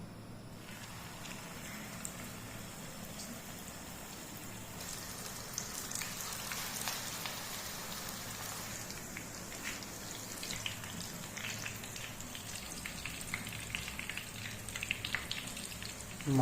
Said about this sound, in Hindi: अब इन पकौड़ों को उस घी में डालते हैं और इनकी तलाई करते हैं